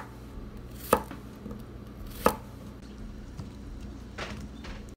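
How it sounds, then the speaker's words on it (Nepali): Potatoes cut with a knife on a board, two sharp separate chops close by with a few fainter taps afterward over quiet background. "तपाईँ देखिराख्नु भएको छ आलुलाई मैले यसरी काटेको छु।"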